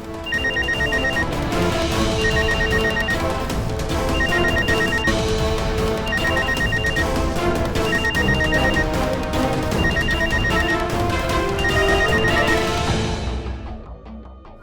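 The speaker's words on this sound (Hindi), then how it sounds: "रीमा दी का फोन तो नहीं।" A phone rings with a repeating electronic tone pattern over loud, dense background music, continuing steadily before fading out at the end.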